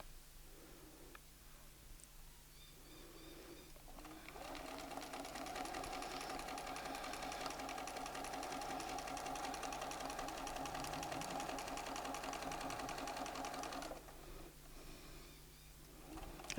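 Bernina sewing machine running steadily at speed while ruler work quilting through fabric, a continuous whirring stitch lasting about ten seconds, close and alone, with quiet handling before and after.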